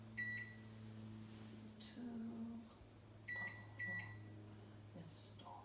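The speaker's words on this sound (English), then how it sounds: "I'm going to put the popcorn in the microwave" A microwave oven hums steadily with a low drone while popcorn cooks inside, with a few faint beeps and clicks and a person speaking quietly over the running appliance.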